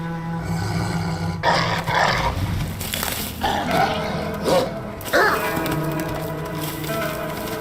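Dog growling and snarling in Assassin's Creed Valhalla, several rough grunting bursts over a droning musical score, with brief voice-like sounds mixed in.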